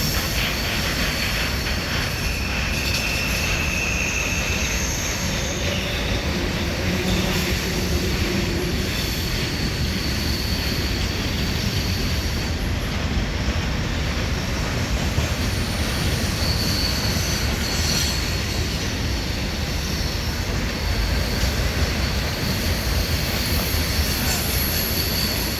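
A loaded southbound grain train and an empty northbound coal train pass at once, making a continuous heavy rolling rumble with faint wheel squeal that stays steady and fairly distant throughout, with no voices.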